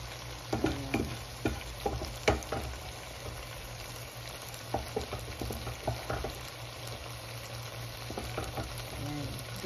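Okra frying with onions and tomatoes, a steady close sizzle with repeated clinks and scrapes of a utensil stirring the pan, loudest early and then settling into a continuous crackle.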